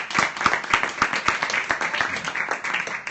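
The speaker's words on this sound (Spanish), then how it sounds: "quiero que le demos un aplauso de bienvenida" A small audience at a talk gives a welcome round of applause for a doctor, individual hand claps distinct and fairly close, a moderately dense, uneven patter lasting the whole stretch.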